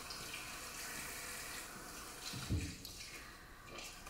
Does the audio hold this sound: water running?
yes